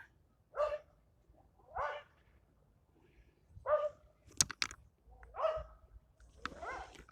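A dog barks repeatedly at a distance beside the River Trent, single barks spaced a second or two apart, with some faint clicks and knocks in between.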